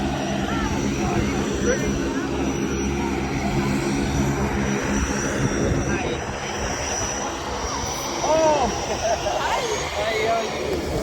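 A small airplane sits at the Amboseli airstrip in Kenya just after landing. Its propeller engine drones loud and steady, close by and continuous, with voices talking over it.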